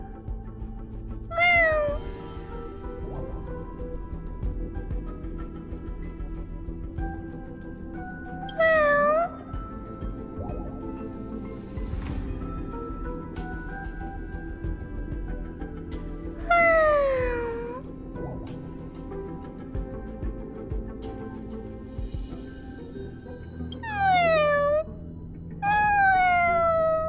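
A cat in the video game Honkai Star Rail gives four or five drawn-out, falling meows spaced several seconds apart over a quiet game background with no talking.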